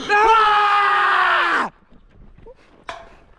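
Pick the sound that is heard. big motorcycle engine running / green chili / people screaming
people screaming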